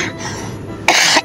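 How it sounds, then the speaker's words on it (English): A person with a cold gives a harsh smoker's cough, close by, ending in one loud rasping burst. "Got a lovely cough. Smoker's cough again."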